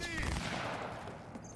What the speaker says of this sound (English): There are like people shooting at me now from everywhere.